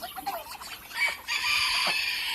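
Chickens cluck and a rooster crows at a farm where about a hundred hens are kept alongside geese, with short clucks early on and a louder, sustained crowing call filling the second half, fairly close and without talk.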